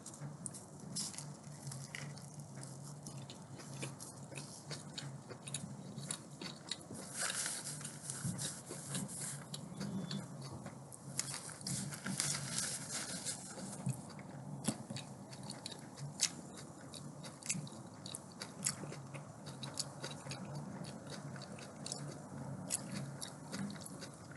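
Close, quiet biting and chewing of a homemade salmon burger with cooked onions, soft wet mastication sounds repeating steadily throughout with no talking.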